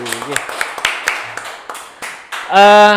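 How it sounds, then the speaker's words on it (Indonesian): Scattered claps from a small group, a few sharp hand claps spaced out, followed by a loud bright tone at the end. "tepuk tangan dong sekali lagi"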